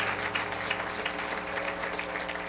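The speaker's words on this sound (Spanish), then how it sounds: "Denle el mejor aplauso al Rey de Reyes" A church congregation claps continuously, a dense, moderately distant wash of many hands, steady for the whole stretch with faint voices mixed underneath.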